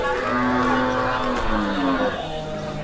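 At the Hozrotpur cattle market, where Qurbani cows are sold, a cow lets out a long, loud, close moo over a background of crowd chatter and nearby voices.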